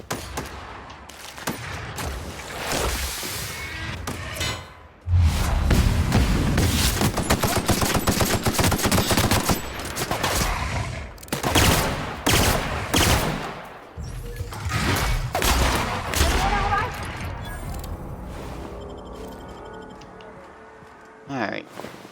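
Bursts of rapid automatic gunfire from a weapon in a video game, loud stuttering volleys separated by brief pauses, with someone talking in between.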